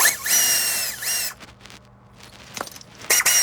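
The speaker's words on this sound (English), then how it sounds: "I'm going to use a air tool, air ratchet, with a 17 on the swivel." An air ratchet with a 17 socket on a swivel loosening a bolt during brake work on a 2018 Hyundai Santa Fe 2.4L, giving a loud pneumatic whir followed by sharp metallic clicks and clanks.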